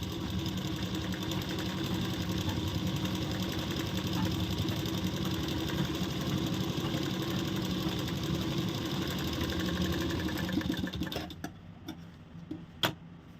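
A sewing machine runs continuously, straight-stitching the bottom hem of a salwar with a steady mechanical whirr and rapid ticking, then slows and stops near the end, leaving a few faint clicks.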